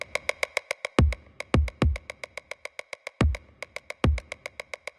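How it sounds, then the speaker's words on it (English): A steady drum beat: crisp, evenly spaced ticks with four heavy, booming low hits landing at intervals, played alone with no voices. "I will turn it up momentarily so you can hear what the drums sound like."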